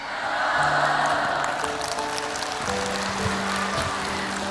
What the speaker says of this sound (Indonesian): Kenapa ibu tepuk tangan segala ya?